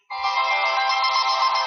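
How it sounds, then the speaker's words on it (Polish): A mobile phone ringtone goes off loud and close, a steady electronic tone that starts abruptly and keeps sounding without pause, during a session of the shooter game Red Crucible 2. "To mój telefon."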